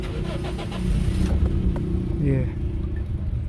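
A Toyota Corolla engine runs roughly with a misfire caused by a faulty mass air flow sensor. The steady close rumble swells briefly in the middle, while someone speaks over it.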